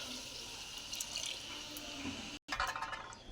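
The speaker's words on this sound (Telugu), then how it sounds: "తగినంత ఎసరు పోసుకున్నాను" Cooking water pours steadily into a pot for making pulao, a soft continuous splashing flow heard up close and fairly faint, with a brief break near the end before it resumes.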